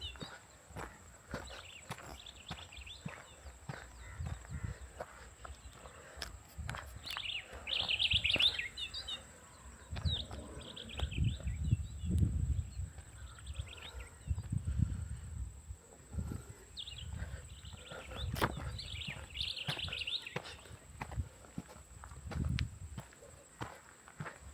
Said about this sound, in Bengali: এখানে কি সুন্দর পাখির আওয়াজ সকালবেলা